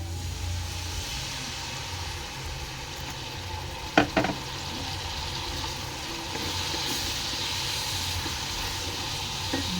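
Pinakbet vegetables sauté in a pan with a steady, moderately loud sizzle and hiss, and a brief clatter of stirring near the middle before the frying settles again.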